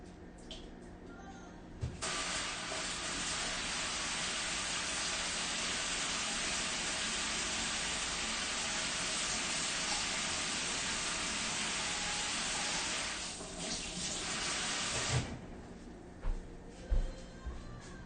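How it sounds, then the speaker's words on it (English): Excess liquid poured off nacho ingredients in a home kitchen, a steady broad hissing splash running unbroken for about thirteen seconds and then stopping, with faint clatter afterward and no talking. "I'm going to pour some of this excess off of here."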